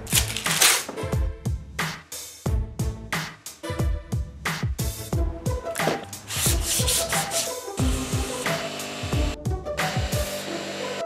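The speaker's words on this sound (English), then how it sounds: "I got 120 sandpaper." Hand sanding with 120-grit sandpaper on a car's red fabric door trim, a brisk run of rough, scratchy back-and-forth strokes in quick irregular bursts, close and fairly loud with no talking.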